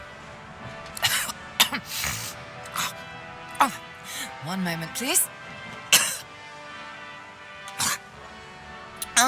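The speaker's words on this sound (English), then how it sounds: "Malady explodes in a fit of retching that racks her body." A woman's fit of retching and coughing in Divinity: Original Sin II aboard the ship Lady Vengeance, with several harsh bursts, a strained gagging stretch in the middle and sharp sneeze-like outbursts, interrupted by a brief spoken line.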